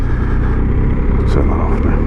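A BMW R1250GS motorcycle engine idles with a low, steady exhaust burble, rumbling continuously and close by.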